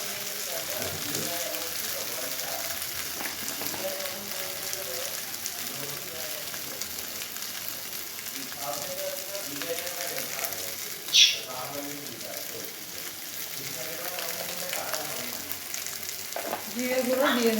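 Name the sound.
ginger paste and cumin sizzling while being sautéed in a pan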